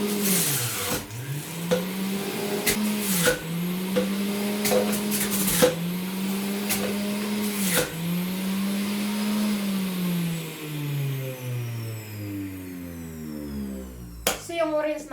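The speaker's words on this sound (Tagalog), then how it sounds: "So magbi-blend tayo ngayon ng orange." A kitchen blender whirs through peeled oranges for juice, its motor pulsing in repeated bursts that rise and dip, then running steadily and spinning down toward the end; close and loud, with a brief clatter at the finish.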